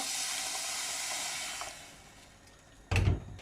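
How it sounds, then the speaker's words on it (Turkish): Hot, freshly boiled water poured over a pot of borlotti beans, a steady broad hissing stream for nearly two seconds that fades, then a brief louder splash or clatter near the end. "ısıtmış olduğum suyumu yani kaynak su döküyorum üzerine de"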